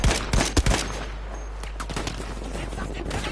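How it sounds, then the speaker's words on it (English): Gunfire in the Battlefield 5 shooter game, a handful of sharp close shots clustered in the first second, then scattered fainter cracks over a steady game ambience. "I think I just got sniped there, only did 51 damage"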